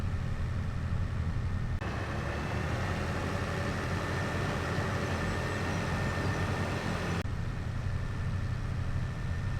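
Logging truck engine in a logging roleplay video game, labouring uphill under a tall load: a steady, loud drone with a low rumble, holding constant for the whole stretch without talk.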